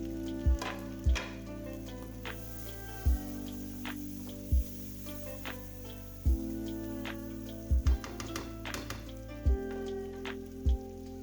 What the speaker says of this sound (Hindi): अब हम इसमें कैप्सिकम और ये ही जो हमारी हरी प्याज है वो हम ऐड कर देंगे।